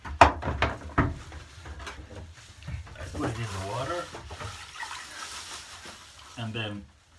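Splashing and swishing of a leafy birch sauna whisk dipped and stirred in water in a Finnish sauna, with a voice speaking over parts of it.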